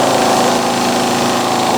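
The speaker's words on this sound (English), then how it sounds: "Let's turn the lathe off." A wood lathe spins a wooden workpiece, giving a steady, close motor hum with a faint whirring rotation underneath, continuous and unbroken with no talking.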